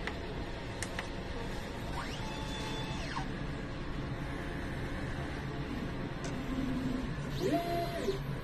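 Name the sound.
printer running a nozzle test after head clean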